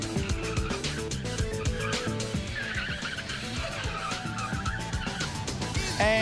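A car runs the Super Slalom course with understeer, its engine roaring loud and continuous with repeated throttle pulses and a brief tire squeal near the end.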